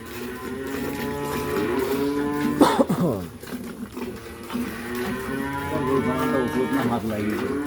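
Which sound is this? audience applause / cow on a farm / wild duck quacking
cow on a farm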